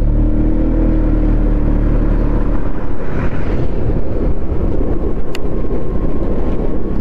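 Heavy wind buffets a GoPro microphone during a ride, a loud continuous low roar with engine rumble underneath that stays strong throughout, no speech.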